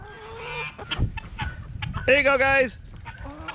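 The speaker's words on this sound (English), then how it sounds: "Let me go check with some birds here" Chickens cluck in a backyard flock, close and busy, with a louder squawking burst in the middle of the run; someone talks briefly to the birds over the clucking.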